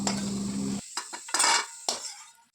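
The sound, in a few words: frying nigella seeds and green chilies in oil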